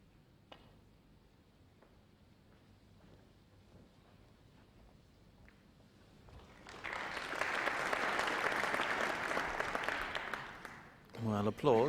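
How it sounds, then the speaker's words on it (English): Snooker audience at the 1995 Benson & Hedges Masters final bursts into warm, sustained clapping after a quiet stretch of faint table sounds, then the applause fades as a commentator begins speaking. "applause"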